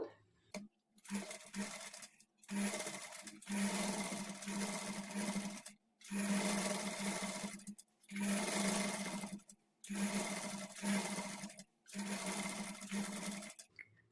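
A sewing machine stitches thread piping along the edge of a garment lining, running in several steady bursts of whirring with short pauses between them, close and clear with no voices.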